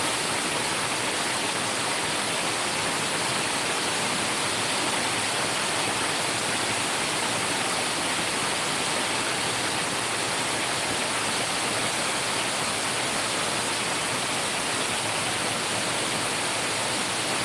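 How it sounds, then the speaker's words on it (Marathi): Torrential monsoon downpour at Amboli, Konkan, a thick, constant hiss and roar of rain that stays loud and even throughout with no voices. "खतरनाक पाऊस"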